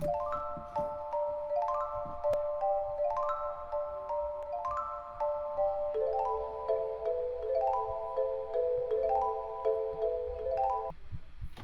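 A guitar is strummed hard, then sets of two-note chords ring out in a steady repeating pattern, clear and close with no talking.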